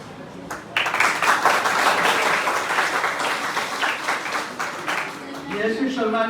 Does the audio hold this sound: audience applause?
yes